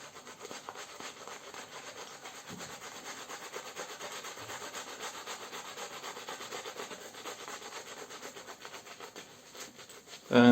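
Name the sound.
synthetic shaving brush lathering with Arco shave stick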